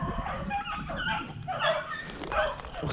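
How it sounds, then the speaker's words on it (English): Hunting dogs on a rabbit hunt yip and whimper excitedly in short, high-pitched bursts, fairly close and continuous for a few seconds. "One of the dogs was getting excited."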